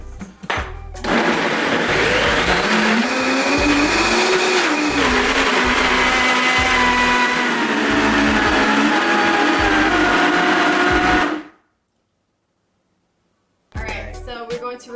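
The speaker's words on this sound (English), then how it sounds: "and then blend" A blender whirs loudly and continuously for about ten seconds while blending a vegan chipotle cheese sauce, then cuts off abruptly and falls silent.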